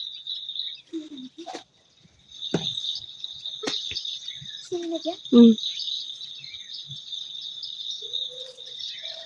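Birds chirp and call outdoors against a steady high insect-like drone, with a few scattered voices and short knocks in between.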